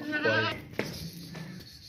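A heavy, strong two-toothed male goat at an Eid animal market gives a loud, close bleat, followed by quieter rustling and faint background noise.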